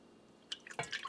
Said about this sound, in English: I'm going to empty that into my pan, and to that I'm going to add 1 cup and a half of milk.